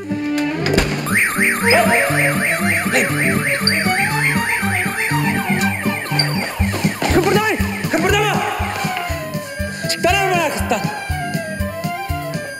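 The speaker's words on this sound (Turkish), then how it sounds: "yalnız 100 liralık araba alarmına takılmayaydık iyiydi." Car alarm wailing loudly nearby, cycling through rapid rising whoops and then changing tone patterns, with voices talking and shouting over it throughout.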